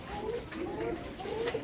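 Pigeons coo in a bird market stall, low rolling calls repeating over a dense, busy background of other birds, close and moderately loud.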